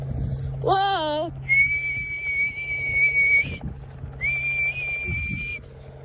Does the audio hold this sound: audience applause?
no